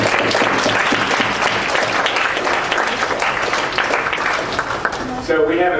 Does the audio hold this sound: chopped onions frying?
no